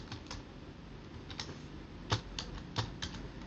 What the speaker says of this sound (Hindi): तो मैं यहाँ अपना पासवर्ड डालता हूँ।